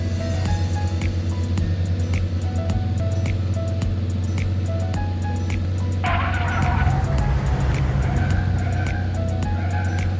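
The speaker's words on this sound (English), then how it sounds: "Drive the truck to deliver goods." A cartoon truck drives along a road in the Little Panda truck-delivery game, its steady engine hum running throughout with game music and effects, a rougher rumbling burst joining partway through.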